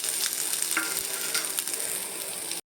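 White and black sesame seeds, coconut and nuts dry-roasting in a pan, a dense continuous close crackle and rustle with stirring scrapes, ending abruptly.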